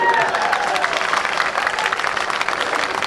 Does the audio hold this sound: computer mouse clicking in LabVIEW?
no